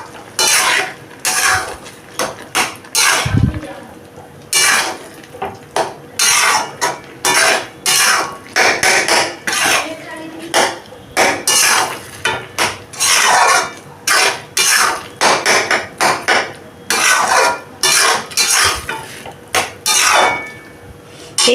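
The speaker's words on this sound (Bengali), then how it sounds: "এইবারে আমি পেঁপে আর এই সয়াবিনটাকে ভালো করে কষিয়ে নেব" Papaya and soybean are stirred with spices in a pan, with loud, repeated clanking and scraping of a utensil against the metal in quick, uneven bursts through the whole stretch.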